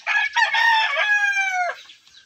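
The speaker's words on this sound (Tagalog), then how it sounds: "Ang daming manok." A rooster crows loudly and close at a gamefowl farm, one long sustained cock-a-doodle-doo call lasting nearly two seconds before trailing off.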